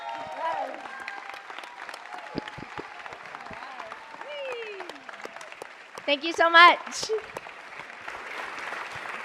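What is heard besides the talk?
audience applause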